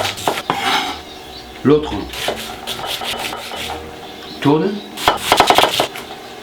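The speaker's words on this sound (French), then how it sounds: "Ça me donne largement le temps de couper des oignons" A kitchen knife slices onions into thin strips on a cutting board, with repeated scraping and chopping strokes in uneven bursts, close up, while someone speaks briefly.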